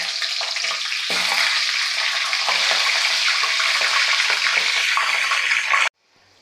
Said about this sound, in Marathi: आणि आपण जसे चिवड्याला तळतो त्याच पद्धतीने आपल्याला शेंगदाणे तळून घ्यायचे आहे